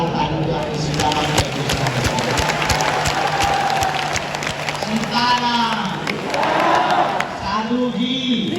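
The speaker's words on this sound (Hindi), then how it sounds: "आप लोग जोरदार ताली बजा के सीताराम" A large crowd at a Bageshwar Dham religious gathering claps loudly and cheers in a continuous wash, with voices and chanting mixed into the applause.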